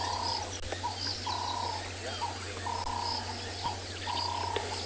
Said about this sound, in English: And all of the sound that you hear from birds